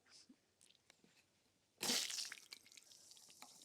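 Water gushes out of a pressure washer surface cleaner on concrete, a sudden loud burst of splashing and spraying after a quiet stretch of faint drips, then tapering into scattered splatters nearby.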